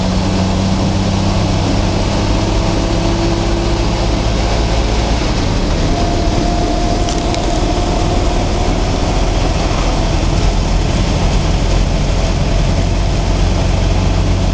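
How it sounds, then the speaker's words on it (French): A vintage car's cold, unwarmed engine idles steadily, a loud, continuous low rumble with a deep, heavy drone and no talking. "Le moteur n'est pas réchauffé, là."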